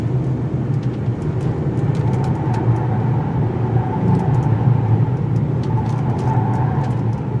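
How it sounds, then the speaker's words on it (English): A 2018 Mitsubishi Outlander Sport in four-wheel drive spins its tires, giving a steady, loud engine drone and rumble throughout with scattered sharp ticks and scrapes from the wheels above it. "Lots of wheel spin, not surprising."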